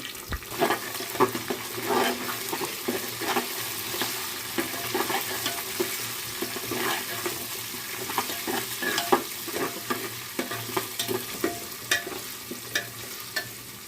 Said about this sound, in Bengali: পেঁয়াজটা ভাজা ভাজা হয়েছে। এখন আমি গোটা মশলাগুলো ঢেলে দিব।